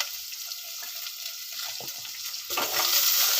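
Onions being tempered and sautéed in a pan, a steady hiss of sizzling oil that swells louder near the end as more goes into the pan, with a few soft stirring knocks.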